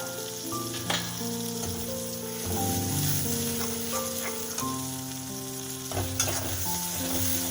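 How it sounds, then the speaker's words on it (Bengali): Spice paste of onion, garlic and ginger fries and sizzles in a pan for a duck egg curry, with steady loud sizzling and scraping stirs throughout, no talk. "একটু মশলাটাকে আমি কষে নিচ্ছি।"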